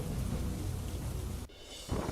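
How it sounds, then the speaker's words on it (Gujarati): A heavy downpour drums steadily at Gadhsisa in Mandvi, Kutch, a dense close hiss that cuts off abruptly partway through before the rain resumes. "માંડવીના ગઢસીસામાં ધોધમાર વરસાદ"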